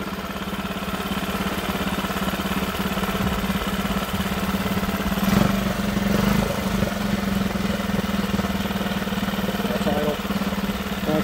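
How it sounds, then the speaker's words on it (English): A Lehr 5 hp propane-powered outboard motor idles close by with a steady, even low hum, a brief louder rattle in the middle, and people speaking over it. "That's idling right now."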